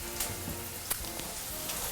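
Crispy bacon frying in its own rendered fat, a soft steady sizzle with faint crackles and pops, quiet and close, no talking.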